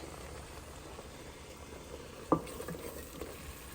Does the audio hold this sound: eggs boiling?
yes